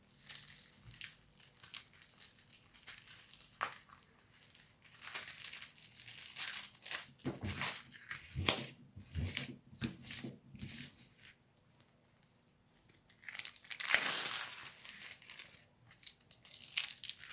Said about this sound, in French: on va remettre maintenant correctement le papier transparent